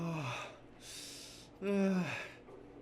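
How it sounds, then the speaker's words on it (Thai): A person takes a deep breath in, a loud airy inhale in the middle, set between short vocal sounds before and after. "หายใจเข้าลึกๆ"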